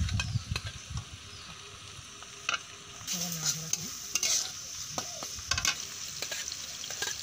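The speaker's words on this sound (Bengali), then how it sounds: "তেল গরম হয়ে গেছে, এতে আমরা পেঁয়াজ কুচিগুলো দিয়ে দিলাম। ভালোভাবে নাড়াচাড়া করে নেওয়ার পর" Chopped onions fry in hot oil in a wok for village-style chicken chowmein. A soft sizzle sits under frequent scraping and clattering strokes of the spatula.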